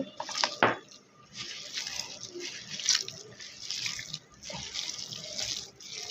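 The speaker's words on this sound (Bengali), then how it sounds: "ও ম্যারিনেট করার জন্য একটু পানি দিতে হবে" Water is poured into pakora batter made with flour, a close splashing trickle that runs steadily for several seconds in a quiet kitchen.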